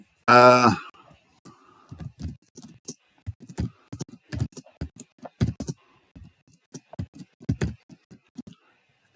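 Fingers type on a computer keyboard at close range, producing a run of uneven, crisp key clicks in short bursts with pauses, following a brief vocal sound at the start.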